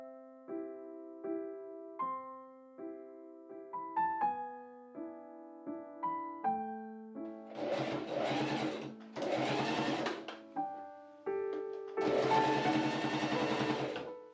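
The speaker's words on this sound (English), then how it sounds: "I machine sew as close to the bone on the inside as I can get" A sewing machine stitches close to the boning inside a corset hoodie in three loud, steady bursts. Sustained electronic tones play throughout, and the stitching runs alone, with no one talking.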